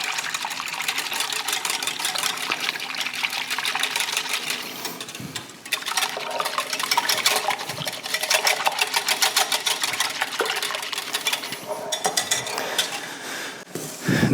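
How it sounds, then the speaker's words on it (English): Steady, rapid whisking of corn dog batter made with a large egg and vegetable oil, a brisk continuous metallic rattle of a whisk against a bowl running at even loudness throughout, close and alone with no talking. "I'm gonna give this a good whisk,"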